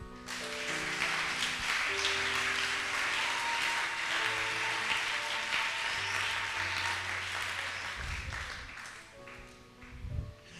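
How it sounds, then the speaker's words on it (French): Church congregation applauding together after a call to acclaim God, a steady wash of clapping that stays loud throughout, with sustained organ or keyboard chords underneath and a few stronger bursts near the end. "Est-ce que nous pouvons l'acclamer?"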